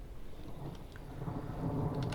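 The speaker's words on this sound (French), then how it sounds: "La tempête est violente." Rain patters and a low rumble of thunder swells through a violent storm, growing louder and heavier toward the end, with a few scattered sharp drips.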